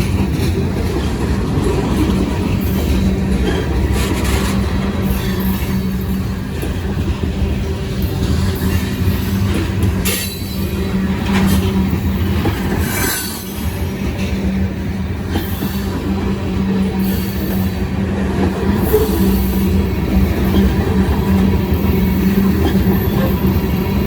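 Loaded covered hopper cars carrying potash roll past on a long freight train, a loud continuous rumble with rhythmic clickety-clack and intermittent wheel squeal, close and without talk.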